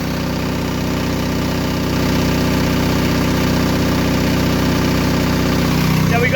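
An Onan 12 kW DJB-MS generator engine idles with no load, giving a steady, loud, continuous mechanical drone with a faint knocking rhythm, and a voice speaks briefly over it.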